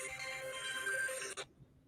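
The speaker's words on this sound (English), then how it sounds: "We give Mr. Norris Witter some time to turn his phone off." A mobile phone ringtone chimes loudly and steadily through a meeting, then cuts off abruptly, leaving faint room noise.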